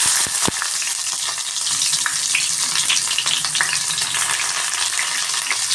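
Chopped onions sizzle and crackle in hot oil in a pan, a loud continuous frying hiss with a few sharp pops near the start and no voices.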